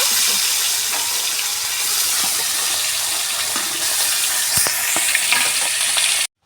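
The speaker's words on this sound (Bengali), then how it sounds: "তিন পিস মাছ হয়ে গেছে, ওগুলো এখন ভেজে নেব।" Pieces of live karfu fish fry in a pan of hot oil, producing a loud, close, continuous sizzle with scattered pops and spatters, uninterrupted by talk until it cuts off abruptly at the end.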